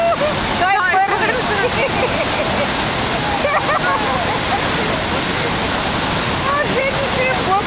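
A waterfall pours and roars in a loud, constant rush close by, with people's voices and calls rising over the crashing water at several moments.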